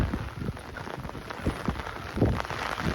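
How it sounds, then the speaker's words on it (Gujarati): Heavy village downpour driven by strong wind, a dense roar of rain hitting surfaces with gusty surges and thumping bursts, loud and close throughout. "વરસાદ ફૂલ પવન આવે છે"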